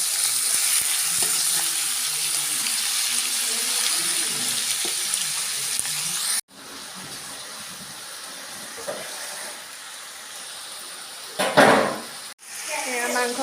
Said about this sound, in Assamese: মাংসখিনি দিয়াৰ পাছত 2-3বাৰ এনেকৈ লৰাই দিছোঁ।